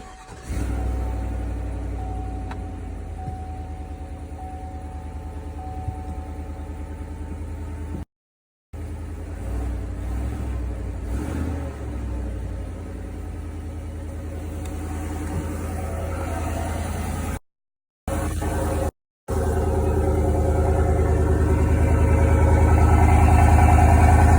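A 2020 Chevy Silverado Trail Boss fitted with a K&N air filter cranks over and settles into a steady, loud idle that carries on with a couple of short breaks, growing slightly fuller toward the end.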